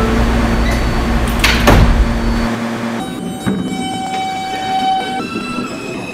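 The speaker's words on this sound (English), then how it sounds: "Stand clear of the closing doors" Loud rumble of a subway train, then a chime tone and the thud of doors sliding shut as the rumble drops away.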